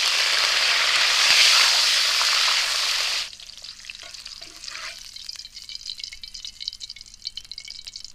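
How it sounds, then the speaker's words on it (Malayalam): Fresh curry leaves fry in hot oil for a Thalassery-style beef dum biryani, with a loud, bright sizzle for about three seconds before it drops to a quieter crackle and stirring. "നമുക്കിനി ഇതിലേക്ക് കുറച്ച് ഫ്രഷ് കറിവേപ്പിലയും കൂടെ ഒന്ന് ഫ്രൈ ചെയ്തെടുക്കാം."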